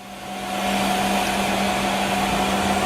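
A CNC machine spindle spins up and runs at a steady, loud whir with a constant tonal hum, rising over the first half second and then holding even with no speech.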